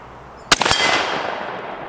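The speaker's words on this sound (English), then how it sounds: "Let's shoot the 10 inch 60 yard plate." A 30-40 Krag Model 1896 rifle fires at a 10 inch steel plate 60 yards away, a single loud sharp crack with a quick second report, then a long ringing decay fading over the next second and a half.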